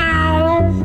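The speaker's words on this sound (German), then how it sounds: "Miau, miau." Cartoon snail voiced with a cat-like meow, a single drawn-out tonal cry sliding downward, close and clear against a steady background, from a SpongeBob SquarePants episode.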